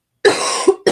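A loud, close cough of two bursts, a sustained harsh one followed by a short second hack, with no talking.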